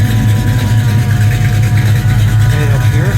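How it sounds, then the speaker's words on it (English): A loud, constant low engine drone from a 1972 Buick Skylark convertible with a 455 engine, with the fuel pump's steady whirring hum running underneath, unbroken throughout, with no talking. "You hear that whirring going? That's the fuel pump."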